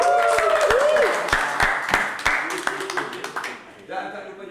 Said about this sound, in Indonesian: Beri tepukan dulu untuk abang Yuki K.